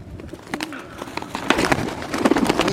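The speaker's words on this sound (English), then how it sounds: "Oh, just a beautiful birdie." Pigeons coo in short, soft repeated calls amid other bird chatter, moderately near and growing slightly busier toward the end, with no talking over them.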